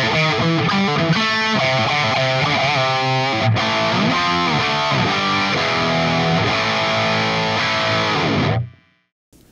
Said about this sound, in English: If I take everything off and just go Astro 20 straight with its internal cab IR, it sounds like this.